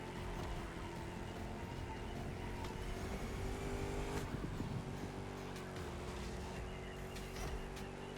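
The engine of a Chrysler SRT8 in a racing video game roars continuously, revving and holding steady at high pitch, loud and unbroken for the whole stretch with no talk.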